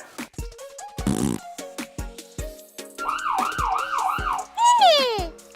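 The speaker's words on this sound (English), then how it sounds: "The ambulance goes wee-oo, wee-oo." Cartoon ambulance siren in a children's car-repair story, a bright wee-oo two-tone wail rising and falling four times, loud and close, after playful boinks and a squeaky sound, ending in a descending whistle.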